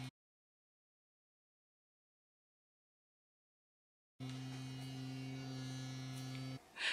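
Electric facial cleansing device switched on after a stretch of silence, giving a steady, faint electric hum with a low buzzing tone that cuts off briefly near the end.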